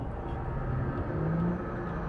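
A car engine in the Cyberpunk 2077 video game accelerates as a dense, steady rumbling drone with a low whir, close and even throughout, with no speech.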